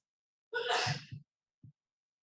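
A single loud sneeze bursts out during a township zoning board meeting, followed by a short breathy trailing sound and a faint small noise, otherwise quiet.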